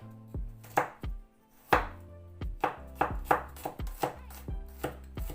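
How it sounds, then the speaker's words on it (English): A knife strikes a cutting board in a quick irregular series of sharp, close thuds while garlic is cut into small pieces. No one speaks between the chops. "Cut small pieces of garlic."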